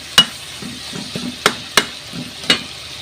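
Mung beans stirred with seasoning in a hot pan for Filipino ginisang munggo, with several sharp spoon-scrape clacks over a low steady sizzle, close and alone.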